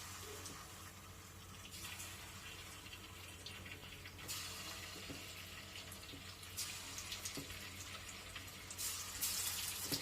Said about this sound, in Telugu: చికెన్ ఈ విధంగా ఫ్రై అవుతూ ఉంది